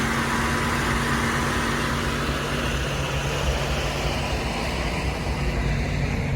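A Dodge Challenger engine idles while warming up after a cold start, with a steady, even drone and hum and no revving or other changes throughout.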